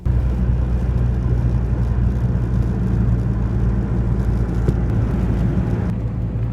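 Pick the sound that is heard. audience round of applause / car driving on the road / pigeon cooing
car driving on the road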